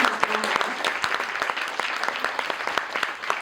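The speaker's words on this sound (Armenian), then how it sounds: "առանձնահատուկ ծափահարենք" An audience applauds after a children's play, a dense, even crackle of many hands clapping close by, holding steady throughout with a murmur of voices underneath.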